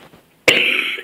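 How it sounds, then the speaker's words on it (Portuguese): A single sharp cough bursts out after a quiet moment, trailing into a raspy, breathy exhale. "Eu tossindo muito."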